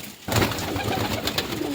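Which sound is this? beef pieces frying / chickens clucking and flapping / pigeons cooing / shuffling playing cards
pigeons cooing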